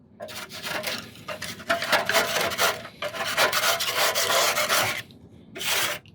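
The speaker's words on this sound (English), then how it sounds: "So we've got our scraper tool here, just kind of just going over." A scraper tool rasps over the inside walls of a gas grill in repeated close strokes, loud scraping bursts separated by short pauses, no speech.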